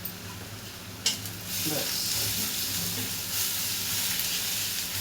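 Coriander powder and garam masala roasting in oil in a pan: a steady bright sizzle and hiss runs throughout, with a sharp clack near the start and occasional stirring scrapes, while a voice speaks briefly.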